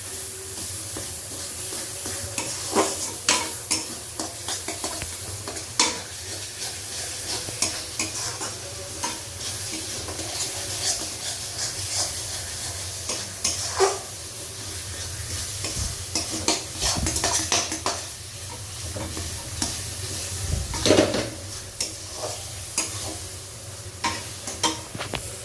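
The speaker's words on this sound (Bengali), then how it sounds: "এইভাবে একটু খুন্তির সাহায্যেই আমি এভাবে স্ম্যাশ করে দেব" A spatula scrapes and mashes chhana with jaggery in a hot pan while making jaggery sandesh: a soft steady sizzle runs underneath repeated scraping strokes and light taps, close and fairly loud, with no talking.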